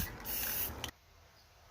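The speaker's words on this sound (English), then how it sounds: "Then I just take a gold spray paint." Gold spray paint hisses from an aerosol can onto an antique wall light sconce in one continuous close burst of just under a second, then stops, leaving quiet room tone.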